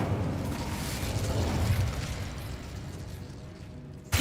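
An Incendio fire spell is cast in Hogwarts Legacy, a rumbling, fiery whoosh with low booming texture that swells and then fades, ending in a sharp burst.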